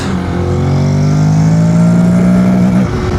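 A motorcycle engine accelerating hard in second gear, heard up close as a loud continuous drone that rises steadily in pitch, then briefly eases and settles, with no voices.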